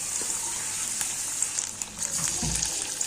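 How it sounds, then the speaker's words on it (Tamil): Banana flower vada, flattened like masala vada, frying in hot oil: a steady close hiss and sizzle with light bubbling and occasional soft stirring or splashing, no talking. "எண்ணெய் காஞ்சி வச்சு நம்ம இதே மாதிரி மசாலா வடை மாதிரி தான் நம்ம தட்டி போட வேண்டியதான்"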